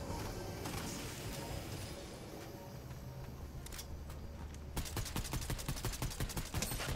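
Gunfire rattles in Fortnite Zero Build, scattered shots at first and then a rapid, loud burst of repeated shots over steady game noise, with no talk.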